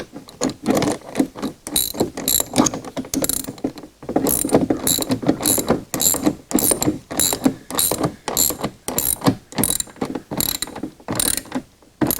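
A ratchet wrench clicks rapidly in repeated bursts as bolts are fastened on a leaf and lawn vacuum's outlet chute during assembly, close and loud with brief pauses between runs.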